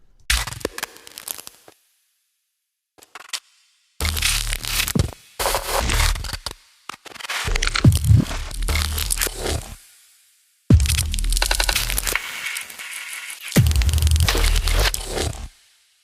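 Processed fire crackling run through stutter and grain delay effects, dense bursts of crackle and crunch that cut in and out abruptly between silent gaps, loud and close.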